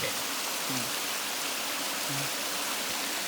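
Ari Doi Waterfall at Pha Nok Khao pours in a loud, steady rushing roar of falling water, with a few faint voices briefly heard underneath.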